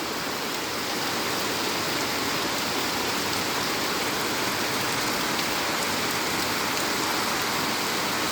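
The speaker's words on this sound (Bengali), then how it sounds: "অনেক বৃষ্টি হয়" Heavy rain pours down in a steady, dense roar that stays even throughout, close and loud with no pauses or voices.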